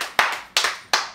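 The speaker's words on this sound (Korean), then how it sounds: "아, 박수." Three distinct hand claps ring out close by at an even pace, each sharp and bright, with a short fading tail, in an indoor setting with no other sound.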